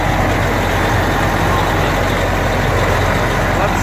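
Freshly started engine of an American semi truck running at a steady low rumble, loud and close, a continuous idle drone with a voice speaking over it.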